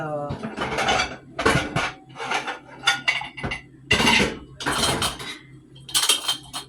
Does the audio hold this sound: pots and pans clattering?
yes